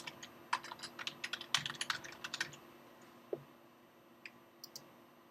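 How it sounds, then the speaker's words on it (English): Computer keyboard typing in short irregular bursts of crisp clicks, close and fairly quiet, fading to a few scattered keystrokes near the end; no talking. "So if you can type in the name of your clinic"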